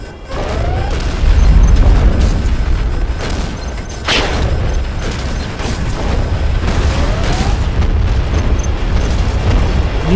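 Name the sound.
particle cannon blast in video game Command & Conquer Generals Zero Hour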